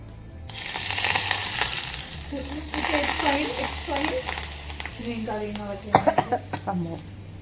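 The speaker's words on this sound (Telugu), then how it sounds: "ఆయిల్ కాగింది వేసేనా" Hot oil sizzles in a pan throughout, a steady frying hiss beneath people talking, with several coughs near the end.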